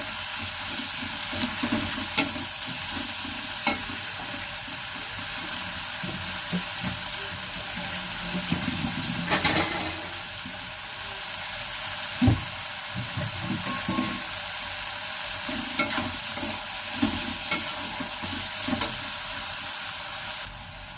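Onions salted and fried in a pan until reddish brown give a steady soft sizzle, with intermittent scraping stirs and clinks of a spoon against the pan, close and moderately loud without speech.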